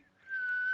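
A voice imitates the light whistling of something flying during a Dungeons & Dragons tabletop session: a single thin, steady whistled tone that starts faint and swells louder, holding through the short moment with no talk over it.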